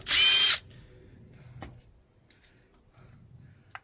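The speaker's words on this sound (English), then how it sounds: "So just drill it" A power drill bores a hole in a Toyota Land Cruiser LC300 tailgate, one loud half-second whine up close, then quiet handling clicks and faint knocks.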